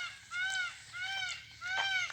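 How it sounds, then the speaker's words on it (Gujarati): A peacock on a farm gives three loud, honking, wavering cries in quick succession, each call rising and falling, with a quiet outdoor background between them. "મોરનો અવાજ છે."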